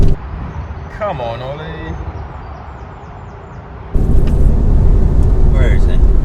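Speed Yellow Porsche 996 Carrera 4S engine in a second gear pull: a low rumble under excited voices that swells louder and fuller about two-thirds of the way through.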